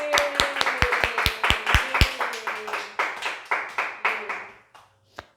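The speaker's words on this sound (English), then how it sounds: "Okay, clap for that." A small group claps in quick, fairly even sharp strokes that are loud at first, then thin into looser, softer claps before stopping, with a low hum underneath and a single clap near the end.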